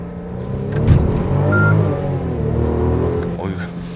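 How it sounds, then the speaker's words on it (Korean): A Mercedes-Benz GLC 300 Coupe accelerates in manual shift mode, its engine note rising steadily from inside the cabin, with voices talking over the steady road rumble. "가속을 할 때 수동으로 한번 주행을 해볼게요"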